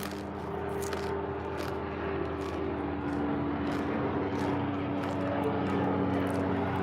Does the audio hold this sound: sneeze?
no